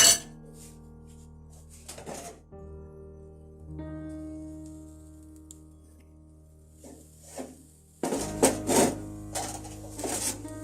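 A lid set onto a pan while making khola jali pitha, a Bengali rice-batter cake, gives a sudden burst of clattering metal clinks near the end, following quieter kitchen clatter and a steady background hum.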